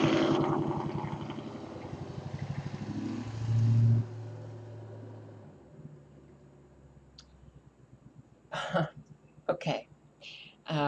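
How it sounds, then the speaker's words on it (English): A car passes outside, its engine swelling loud and near for a few seconds before fading away, followed by faint clicks and a throat clearing indoors. "If you did not hear the car, good, you're lucky."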